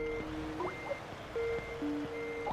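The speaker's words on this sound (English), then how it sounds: "I really do apologise for this Skype sound" A Skype incoming-call ringtone plays as repeated electronic tones: steady held pitches with short rising chirps, looping in a regular pattern at moderate volume with no talk.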